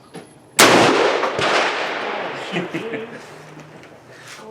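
A G Force GF99 DLX 12 gauge shotgun fires one loud magnum shell, a sharp close blast that rings out into a long, slowly fading tail, with people talking faintly afterward.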